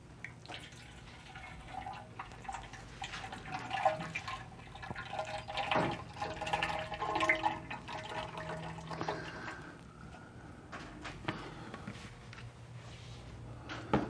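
Ice cream mix for dark chocolate mint ice cream pours from a bladder into the machine, a steady trickling, splashing flow with drips, close and moderately loud, no talking.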